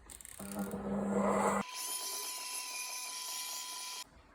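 Electric mixer whizzing muffin batter with feijoa, lime and spice, a loud whirring buzz for about a second, then a higher steady hum with a faint tone that cuts off abruptly, no voices.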